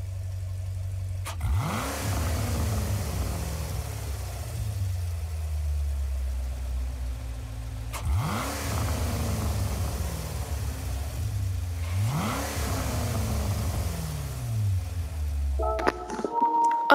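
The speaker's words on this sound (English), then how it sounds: "Listen to the engine." Synthetic-sounding Group 4 sports car engine in Gran Turismo 7 revving up repeatedly, pitch climbing then falling in three long pulls, loud and continuous, with a short electronic tone at the end.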